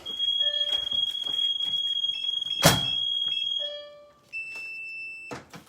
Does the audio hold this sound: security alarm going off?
yes